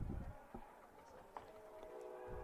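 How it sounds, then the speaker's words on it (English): A train passes at a distance near a college baseball field, a faint steady rumble with tonal hum under crowd and field noise. "one of the many trains coming by, as you can hear in the distance"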